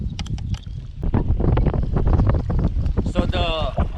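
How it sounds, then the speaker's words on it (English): Gusty wind buffeting the microphone while kayak fishing on open water, a loud, rough rumble that surges and dips, with a voice briefly heard near the end. "so beautiful weather earlier, you know, got a little windy"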